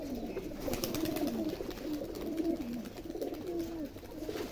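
Pigeons kept by a fancier, show-quality highflier birds, coo steadily and continuously at close range, with soft overlapping calls and no talking.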